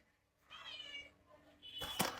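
A cat meows indoors: a drawn-out, wavering meow at close range, a short pause, then a sharper, louder cry at the end over quiet room noise.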